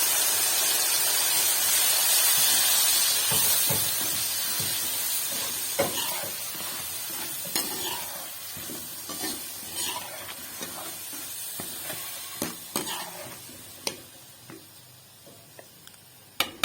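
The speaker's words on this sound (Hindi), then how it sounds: "मैं सबसे पहले अब डालूंगी अदरक लहसुन का पेस्ट।" Ginger garlic paste sizzles and crackles in hot oil for a village-style sarson ka saag, with steady frying hiss and occasional sharp pops and stirring clicks that grow sparser toward the end.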